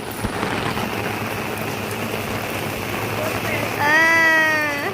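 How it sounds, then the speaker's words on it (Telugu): Steady heavy thunderstorm rain pours throughout in a village, a dense hiss with drumming on surfaces, and a voice speaks briefly near the end over the downpour. "చూడండి వాన ఎలా పడుతుంది"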